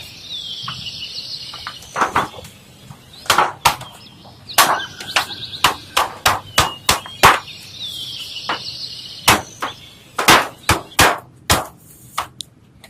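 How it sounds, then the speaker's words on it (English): Repeated sharp hammer strikes on manhole cover parts being fitted and secured, irregular then in quick bursts, close by, with faint birdsong in the background. "Make sure every part is in before you really hammer it to secure the edges."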